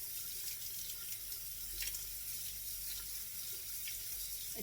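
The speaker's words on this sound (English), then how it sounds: "just a minute while I just rinse this through" Chunky merino and alpaca blend yarn is rinsed under a running tap, giving a steady, fairly quiet hiss of flowing water with no break.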